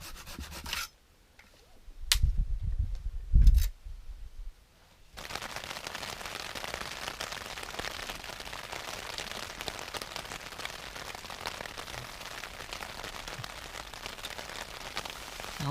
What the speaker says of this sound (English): as you can hear, it's raining. This is the heaviest it's been all day